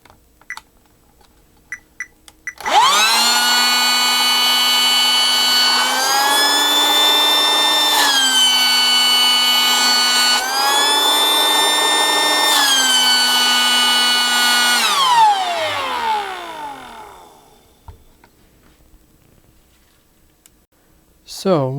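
Coleman rechargeable QuickPump electric air pump switching on with a strong whining motor hum that shifts pitch a few times as the airflow changes, then winds down to silence, with a few clicks before and after.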